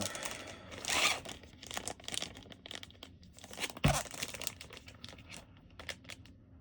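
Thin plastic comic book bag being folded over a paperback book, giving close crinkling and crackling bursts with a sharper crunch midway, no talking.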